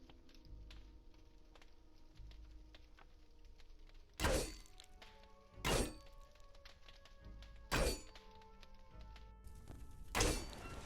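Grenade blasts in the video game Caves of Qud: four separate sharp thudding impacts spaced a couple of seconds apart, loud against a quiet background of faint game ambience.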